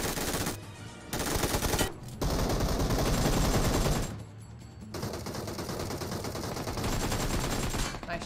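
Rapid automatic gunfire from the mobile battle-royale game PUBG Mobile, loud, dense bursts broken by two short pauses, with no talk over it.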